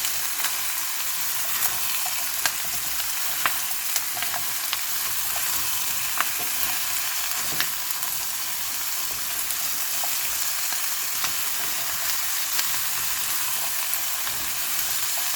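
Chayote is stirred into cooked meat in a hot pan, giving a steady, close sizzle of frying with scattered scraping and clicking utensil strokes throughout, with no talking.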